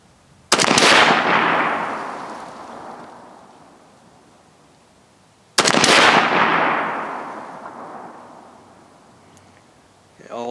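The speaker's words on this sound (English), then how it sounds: "I'm going to shoot at the top left target out there" Two loud rifle shots from a Joint Force SPR fired at a target 102 yards away, each a sharp close blast followed by a long fading echo, about five seconds apart.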